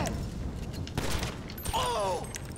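Gunfire in GTA Online: a few scattered, sharp shots at moderate loudness over a busy game soundscape, with a short voice-like tone in between.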